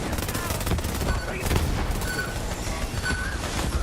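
Rapid gunfire from accurate guns in the video game Borderlands 3, dense overlapping shots and impacts in a continuous volley with game effects.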